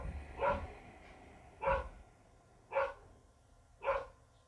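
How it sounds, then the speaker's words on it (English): A dog named Whiskey barks from upstairs during a yoga class: four single, muffled barks at an even, unhurried pace, each one separated by about a second of quiet. "You'll have to ignore the barking of a dog upstairs"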